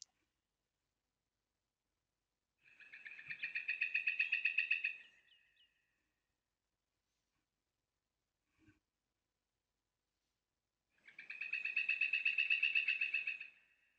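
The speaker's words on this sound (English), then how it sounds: "at the moment it's playing night birds" Night birds ambience playing back in Wwise game audio: two long bursts of rapid, trilling chirps a few seconds apart, separated by near silence with a faint brief click between them.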